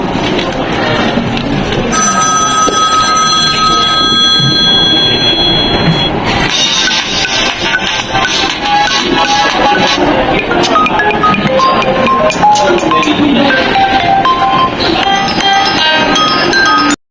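An Infinix Smart 8 phone plays its ringtone at loud volume, a bright repeating melodic tone that fills the room over constant background noise, with a tonal phrase recurring throughout.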